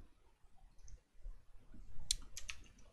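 A few sharp computer mouse clicks while working in Adobe Illustrator, two quick pairs close together near the end, faint and close against a quiet room.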